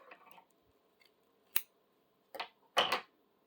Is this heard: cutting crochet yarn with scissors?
yes